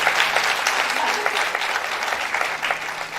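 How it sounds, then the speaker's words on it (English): Audience at an international conference applauding, dense steady clapping from many hands filling the hall for a few seconds, loud and close. "A big clap for yourself."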